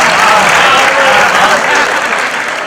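Audience at a live Gujarati comedy show in Mehsana applauding, with a dense, sustained wash of clapping that stays loud and even throughout and tapers slightly at the end.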